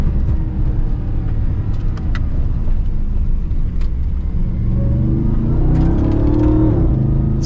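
A pickup truck engine rumbles and revs loudly and continuously while driving off-road over bumps, with the pitch rising near the end as it accelerates.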